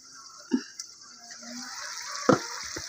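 Spice paste frying in hot oil in a pan, a soft steady sizzle with a couple of sharp stirring clacks, close and alone with no talk.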